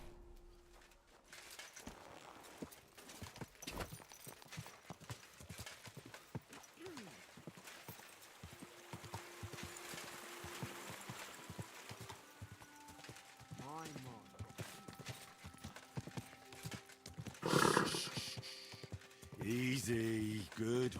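Horse hooves clip-clop in the medieval game Kingdom Come: Deliverance 2, a steady rhythmic trot under a rain-like ambience and game music, while someone talks at intervals over it.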